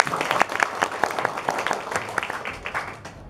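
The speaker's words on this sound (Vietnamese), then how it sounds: "Xin một tràng pháo tay." Audience applause at a medical lecture on interactive dermatology in Vietnam: a scattered burst of hand claps that thins toward the end, with some crowd murmur underneath.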